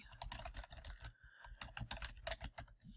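Rapid typing on a computer keyboard, a steady run of soft, close key clicks with brief pauses, quiet and alone without any talk.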